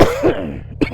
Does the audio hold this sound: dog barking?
no